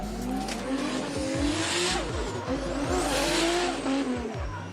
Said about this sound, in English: If you want a turbo to sound like that, go find Sparky Tan and he will tell you how